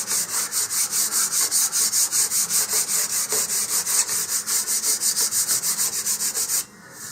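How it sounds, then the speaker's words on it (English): Steady back-and-forth sanding of a balsa wood sheet for a model rocket fin, using 120 grit sandpaper, with even rhythmic strokes close up, about two per second, stopping near the end. "I'm using 120 grit here, and just sand both sides of the sheet."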